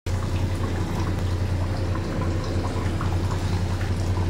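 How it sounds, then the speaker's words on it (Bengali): Water goes into a simmering curry of pointed gourd and paneer, a steady, close bubbling and pouring wash with a low constant hum of the stove beneath, no voice. "এগুলো নাড়াচাড়া করে আমি একটু জল দিয়ে দেবো"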